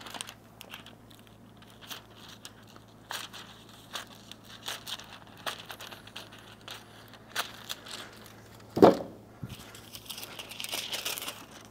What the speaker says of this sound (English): I'm only going to cut one probably 2-3 inch wide foil piece to transfer to